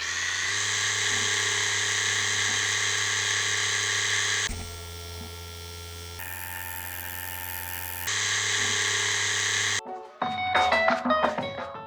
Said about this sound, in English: I'm gonna power it on 7 volts so you can have an idea of the noise of this machine